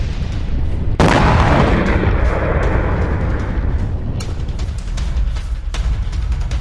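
Israeli bombing strike on a Hezbollah ammunition depot: a sudden heavy explosion blast followed by a long rumbling roar, with smaller pops and bursts trailing off, loud and continuous without speech.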